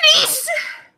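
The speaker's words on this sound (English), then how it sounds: "sneeze" A single sharp sneeze, close and loud, bursting out and trailing off within a second.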